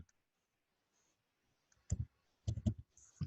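Quiet, close keyboard clicks as code is typed on a computer, a few short clusters of keystrokes separated by pauses, with no talking.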